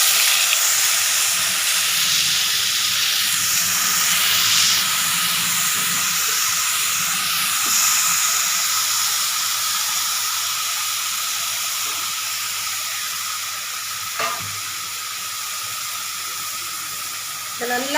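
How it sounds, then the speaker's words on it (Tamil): Beetroot sizzling in leftover ghee from fried cashews for beetroot halwa, a steady hissing fry that fills the whole stretch with a brief clatter near the end. "முந்திரி வறுத்த அந்த மீதி நெய்லேயே நம்ம இந்த பீட்ரூட்டை போட்டுக்கலாம்."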